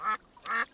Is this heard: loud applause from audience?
no